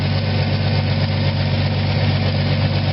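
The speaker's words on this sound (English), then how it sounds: "Now it'll idle down, okay, because the choke is on a little bit." A 1979 Ford F-100 engine with a newly fitted carburetor and the choke slightly on, idling with a steady loud low rumble and no pauses.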